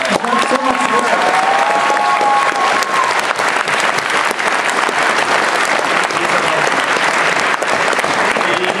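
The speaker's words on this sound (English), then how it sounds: "I think Rob deserves an applause" A convention panel audience at AniNite 2011 breaks into loud, sustained applause, dense clapping filling the room for nearly nine seconds with some cheering mixed in early on.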